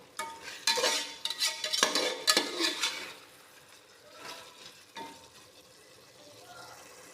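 Tomato chicken masala is stirred in a pan, a spoon scraping and clinking against metal in quick bursts over a soft sizzle that fades to quieter stirring.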